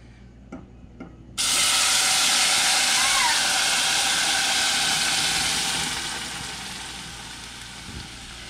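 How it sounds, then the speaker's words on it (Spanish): Blended green salsa hits hot oil in a frying pan, bursting into a loud, steady sizzling hiss after a few faint clicks, then easing slightly as it keeps frying. "Ya puse este sartén con aceite. Aquí lo voy a freír."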